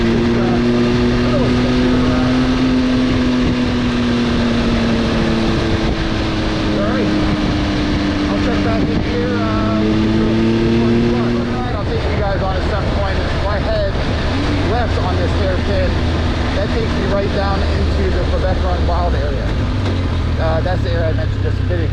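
An MV Agusta Enduro Veloce motorcycle runs on a winding mountain road with a steady engine hum and rising and falling pitch as it shifts, while a rider talks over it throughout.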